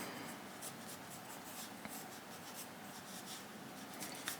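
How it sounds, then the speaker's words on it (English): A pencil sketches a round circle on paper, a soft steady scratching close by with faint rhythmic strokes and no voices. "So I'm just going to make a simple character sketch. Round circle for the hat."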